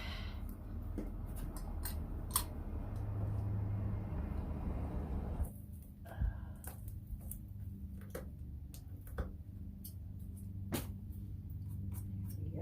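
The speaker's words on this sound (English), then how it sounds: "Now I'm gonna cut away some of this sound deadening so it doesn't gum up the blade I just bought." Sound deadening material being cut away inside a van during a gray water tank install, heard as scattered sharp snipping and ticking clicks over a low steady rumble, quieter after the midpoint, with no speech.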